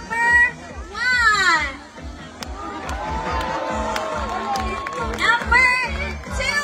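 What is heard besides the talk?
audience cheering and shouting contest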